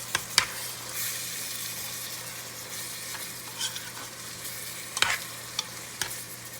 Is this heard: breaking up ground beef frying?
yes